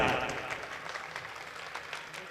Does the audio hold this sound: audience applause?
yes